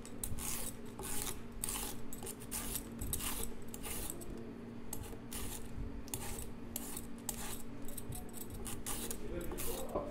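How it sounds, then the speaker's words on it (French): A red kuri squash is peeled by hand with repeated short scraping strokes in a kitchen workshop, close and fairly faint, with a person talking throughout. "on va éplucher notre potimarron."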